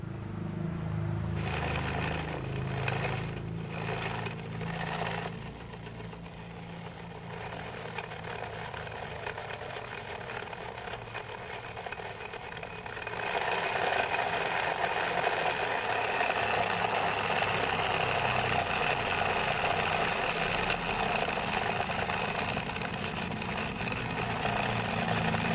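A miniature truck engine model runs steadily with a continuous mechanical hum and rattle, growing a little louder partway through, close by with no talking.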